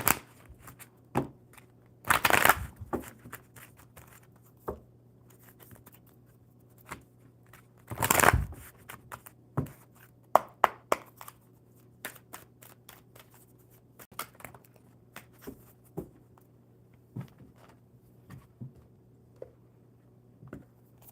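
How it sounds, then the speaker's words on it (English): Tarot cards are shuffled by hand in a quiet room: two short, crisp riffling bursts stand out, with soft taps and shuffling rustles in between. "Didn't think they were going to shuffle properly."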